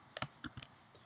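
A few faint, quick computer mouse clicks on an on-screen plus button, heard close up as a small irregular cluster of soft clicks in an otherwise quiet room.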